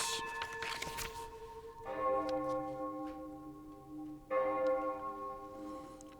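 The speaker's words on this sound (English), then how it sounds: "Hear the tolling of the bells." Two deep strikes of a church bell, each ringing out and slowly fading, with a lighter chime and faint ticking before them.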